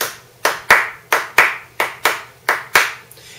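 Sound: hand clapping in swing rhythm

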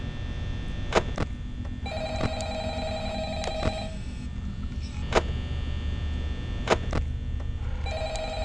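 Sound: telephone ringing in the video game Five Nights at Freddy's

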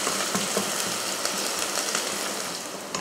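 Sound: small onions sautéing in a pan

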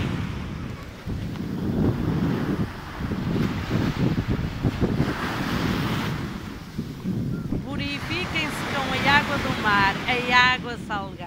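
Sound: sea waves at the beach with wind

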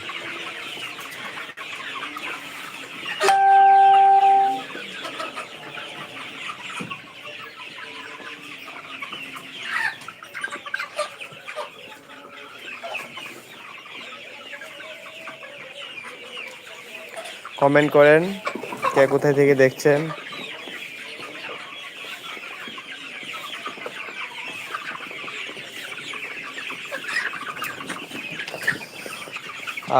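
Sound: tiger chickens clucking

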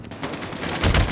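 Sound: gunfire in the video game Call of Duty

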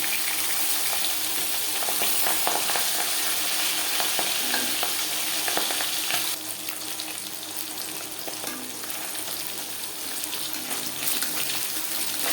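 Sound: pabda fish frying in oil

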